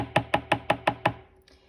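A fine liner pen taps hard on paper while stippling, six quick evenly spaced knocks that are close and fairly loud, the last ones fading slightly before silence.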